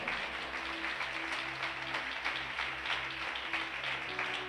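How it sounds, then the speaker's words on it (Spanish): A church congregation applauds during a service, with scattered, fairly soft clapping over a steady low electrical hum from the room's sound system. "Alguien regale un aplauso al Señor en esta preciosa hora."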